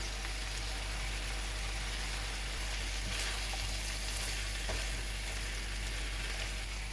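Finely chopped fresh garlic, three cloves, frying with asparagus in a pan, a steady continuous sizzle like light rain with a couple of soft stirring knocks, and no voices.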